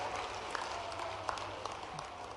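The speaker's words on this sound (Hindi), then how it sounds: "दोनों हाथ ऊपर के जोरदार ताली बजा के अभिनंदन" Applause from an audience greeting a government minister on stage at a public event, a steady wash of clapping that sounds distant and fairly faint, with no talk over it.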